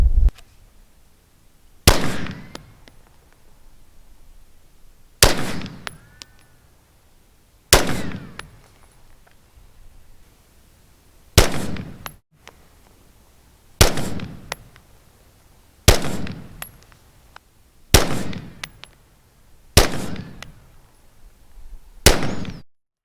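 .223 Remington rifle test fired with 55-grain hollow-point hunting ammunition: nine loud, sharp gunshots spaced a few seconds apart, each followed by a short decaying echo and near silence.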